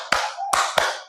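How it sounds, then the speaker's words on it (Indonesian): Three sharp hand claps of a group rhythmic clapping cheer sound close by in a classroom, the first alone, then two quicker ones in an uneven rhythm. "Tepuk semangat, masih ingat?"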